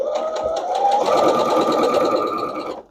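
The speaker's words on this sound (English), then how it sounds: "I'm just going to sew straight down and kind of adjust as needed" Sewing machine stitching straight seams along rows of a beginner patchwork quilt top, a steady continuous whirring drone running close and loud for nearly three seconds before stopping.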